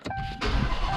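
A Dodge Challenger Hellcat Daytona starts up with a brief whirring crank, then the engine catches at once into a loud, deep, rumbling idle.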